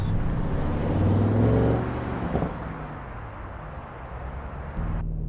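An Audi RS 6 Performance engine roars hard as it launches with launch control, revving high, then the pitch sweeps through a gear change before the power cuts off sharply.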